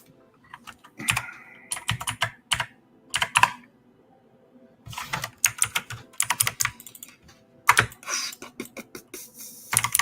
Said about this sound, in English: Trying to hit these keys on the keyboard sometimes.